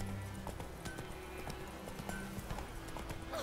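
A horse gallops in The Witcher 3, its quiet, rapid hoofbeats drumming steadily under soft ambient music tones.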